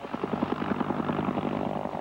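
A Cobra attack helicopter flies during the 1991 Persian Gulf crisis under hazy, overcast skies, its rotor beating in a fast, steady chop at moderate distance.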